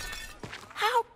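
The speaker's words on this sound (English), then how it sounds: "So he's literally taking a bolt cutter to smash open a window." A window smashed open with a bolt cutter in the horror game Arkham Horror, a short sharp glass shatter near the end of a quiet moment after a dull knock.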